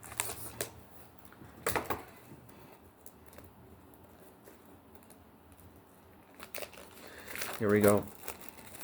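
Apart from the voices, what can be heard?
plastic cellophane wrapping being torn off a package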